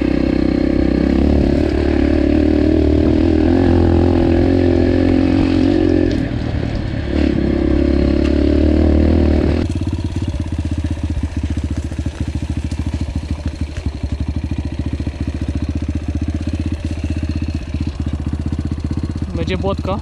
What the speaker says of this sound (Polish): I przez to TTR bardzo dobrze ciągnie, rwie po prostu, ale do połowy gazu